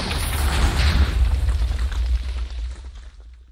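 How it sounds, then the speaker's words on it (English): A TNT minecart blows up in Minecraft, one loud booming blast with a crackling rumble that decays over a few seconds into quiet, heard alone without talk. "there would be a massive explosion"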